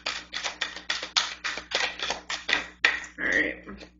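A deck of oracle cards is shuffled with quick, regular riffling bursts, about a dozen crisp close-up flutters in a row ending in a softer sliding rustle.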